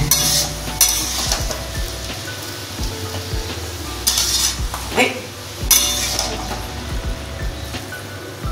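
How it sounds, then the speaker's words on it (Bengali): Bottle gourd and shrimp stirred in a pan over a low sizzle, with several loud metallic scrapes and clinks of the spatula against the pan, ending in a lid being set on top. "ভালো করে নেড়ে ঢেকে দেব।"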